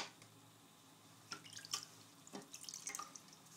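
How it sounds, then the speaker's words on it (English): Water drips and splashes while a sharpening stone for honing a Henckels razor is rinsed, faint scattered trickles and a few brighter splashes in a quiet room. "now I'm going to rinse this stone off even further"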